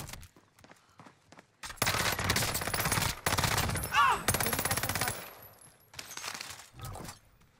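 Rapid automatic gunfire in Call of Duty: Warzone comes in bursts of loud crackling shots, with short quiet gaps between them and a voice briefly heard.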